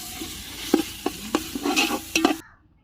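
A large batch of ginger garlic paste frying for biryani, about 200 grams, with a loud sizzle and several sharp scraping strokes of a ladle in quick succession, close up, before it cuts to silence.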